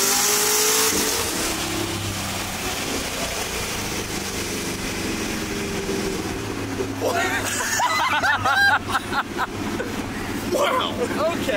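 A supercharged Ford Mustang drives and accelerates, its engine a rumbling drone that rises in pitch, with voices talking over it and the revving becoming more prominent toward the end.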